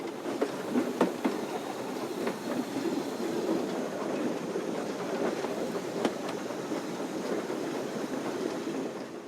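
Railcar rolling along the rails near the Belgian-French border, a steady close rumble with rhythmic clickety-clack wheel beats throughout and no voices.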